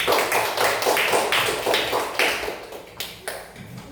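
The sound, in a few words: classroom applause for a student group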